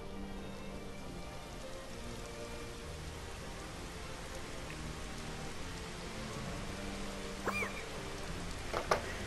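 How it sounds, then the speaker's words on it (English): Rain falls steadily in the video game Final Fantasy XV, a constant even patter throughout with a couple of faint chirp-like sounds near the end and no talk. "It's raining, and it's we're looking at a long hallway that lead to the end of your dream."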